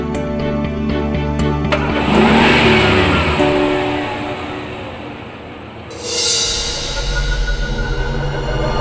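A car pulls away and drives off, its engine revving and rising in a sweep before fading, then another loud surge near the end, with tonal hum and high whine under it and no speech.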